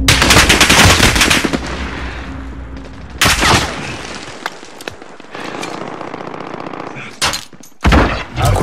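Loud automatic gunfire in Call of Duty Warzone on PS4: dense rapid bursts separated by short pauses and a few sharp single shots, close up and alone.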